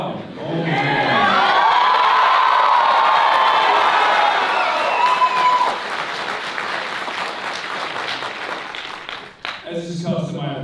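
Large rally crowd applauding and cheering loudly for several seconds, a dense sustained roar that thins toward the end as a voice begins speaking over it.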